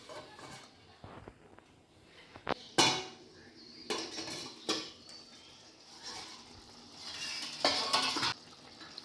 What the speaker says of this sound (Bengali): এবার ঢ্যাঁড়সগুলো ঝালের মধ্যে দিয়ে দিচ্ছি। একটু চাপা দিয়ে দিচ্ছি সেদ্ধ হওয়ার জন্য।